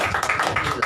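A church congregation claps together in quick, rhythmic beats, a steady run of sharp claps within a second.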